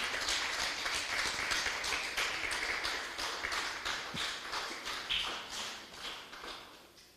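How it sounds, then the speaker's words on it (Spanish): Sustained applause from a church congregation praising the Lord, rapid dense hand clapping that holds steady for several seconds and then tapers slightly, with no voices over it. "Den un fuerte aplauso al Señor, amigo."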